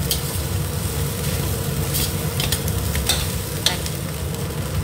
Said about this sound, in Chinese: 把辣椒下锅翻炒均匀，然后还有葱花下锅翻炒均匀